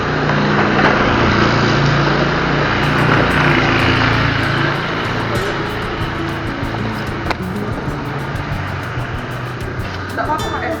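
A kick-start motorcycle engine runs loud and close with a buzzy, uneven idle while people talk over it. A higher ticking rattle joins partway through.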